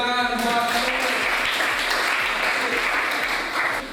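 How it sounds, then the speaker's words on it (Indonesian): A classroom breaks into applause during a lesson on waste management. Dense, even clapping from many hands fills the room at close range, with a brief voice at the very start. "Beri tepuk tangan buat"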